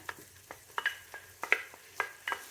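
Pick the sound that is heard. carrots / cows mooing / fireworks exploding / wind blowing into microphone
carrots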